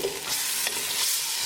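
Potatoes being stirred into a tomato tadka in a hot pan, with a steady sizzle and frying hiss throughout and soft scraping strokes of the spoon, close and continuous, without any voices.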